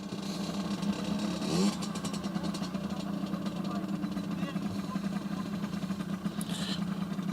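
Motor vehicle engine running steadily at a waterfront on the Westerschelde in the Netherlands, a continuous mid-pitched drone with a slight rise partway through, heard under someone talking.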